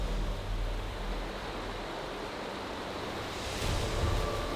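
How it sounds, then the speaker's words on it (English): Fast-moving river water rushes through a steep ravine in Alaska, a continuous broadband roar that stays steady and close, swelling slightly near the end. "The water is moving fast."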